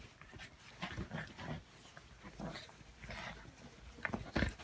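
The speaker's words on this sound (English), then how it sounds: "Two vicious dogs attack." Two aggressive dogs fighting, with bursts of snarling and barking that rise and fall in rapid, overlapping clusters, growing harsher and louder toward the end.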